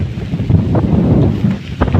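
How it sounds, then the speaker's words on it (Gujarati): Strong wind buffets the microphone outdoors on a farm, a steady loud low roar with gusting swells throughout and no voices. "પવન બહુ હે"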